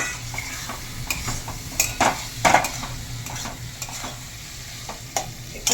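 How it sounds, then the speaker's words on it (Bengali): Chicken frying in spiced oil that has separated from the masala, a continuous close sizzle with steady stirring and occasional sharp scrapes and clinks of a spatula against the pan. "চিকেনটা দিয়ে একটু ভালো করে আমি কষবো"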